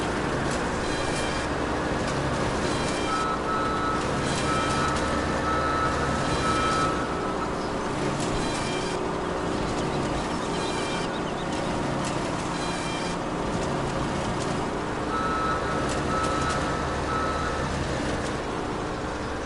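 Repeated reversing beeps from a vehicle in Farming Simulator, regular pulses over a constant loud engine rumble lasting the whole stretch, no talking.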